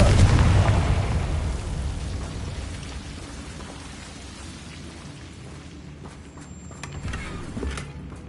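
A blasting spell's explosion effect erupts as a deep, loud boom at the start and then fades into a long rumbling, crackling tail like distant thunder and rain.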